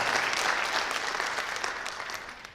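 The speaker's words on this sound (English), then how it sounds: "You can clap it up for her." Steady applause from a crowd, dense clapping that gradually fades toward the end.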